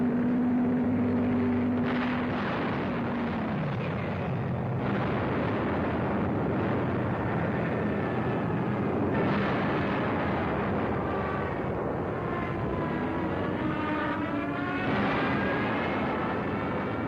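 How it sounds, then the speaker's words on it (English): Aerial bombardment in the WWII desert campaign, with a continuous heavy roar of aircraft engines and rumbling blasts that swell and fade over a dense, loud wash of noise. "From the skies, a bombardment which caused great damage to the Allied effort"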